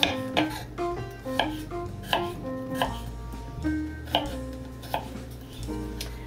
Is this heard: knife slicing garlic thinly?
yes